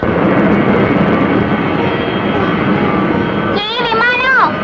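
An airplane flies overhead in a film scene, a loud, continuous roaring rumble that holds steady before a voice cuts in near the end.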